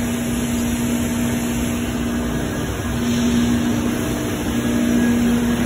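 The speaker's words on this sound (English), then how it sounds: "And that is our edge bender." An edge bander machine runs in a millwork shop, giving a steady mechanical drone with a low hum and a constant tone, holding level without a break for several seconds, with no talk over it.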